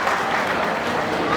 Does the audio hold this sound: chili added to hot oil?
no